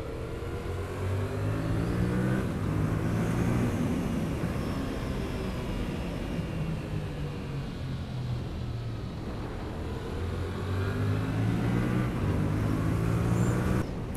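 A 2021 Yamaha MT-07 motorcycle accelerating hard on a twisty road, its engine climbing in pitch through several upshifts, each gear change briefly dropping the revs before the next rising pull, loud and close with no talking.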